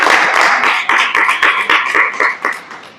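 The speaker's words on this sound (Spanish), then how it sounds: "Así que un aplauso para ustedes" A small group of people clapping, close and fairly loud, in quick uneven claps for about three seconds that fade toward the end.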